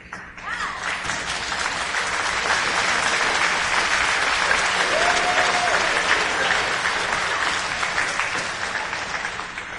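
Graduates at a Sault College graduation ceremony applaud their families, partners and friends, with steady, loud applause from a large crowd filling the hall for nearly ten seconds without a break.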